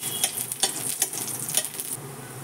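Chicken with turmeric fries in a pan, a steady close sizzle broken by several quick scraping stirs of a spoon against the pan over a couple of seconds, with no voices.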